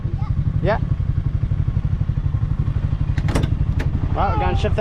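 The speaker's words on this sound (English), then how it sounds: "I did the motorbike in the rain." A motorbike engine chugs steadily and loudly throughout while riding on a farm in wet, rainy weather, with a couple of brief voices and clatter heard over the running engine.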